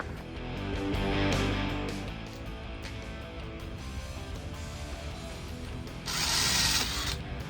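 A power driver spins a bolt out of a golf cart lower control arm bushing with a loud, rattling mechanical whir. It surges at the start and again near the end.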